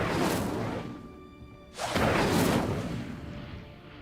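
An Incendio fire spell in Hogwarts Legacy goes off as two whooshing bursts of flame, the second louder and fuller, each swelling then fading.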